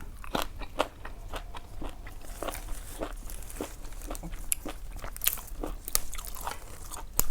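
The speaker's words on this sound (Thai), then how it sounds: "อือหือกรอบขนาดพี่น้อง" Crisp fried vegetables and herbs such as water fern, garlic and chili being bitten and chewed, giving a steady run of close, sharp crunches and crackles with no talk.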